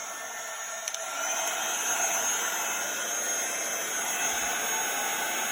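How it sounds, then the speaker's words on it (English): A heat gun blows steadily to melt embossing powder on a card-making project, a continuous close whooshing roar of airflow with a faint whine, running alone after a small click at the start. "we're just going to take our heat tool and heat this up"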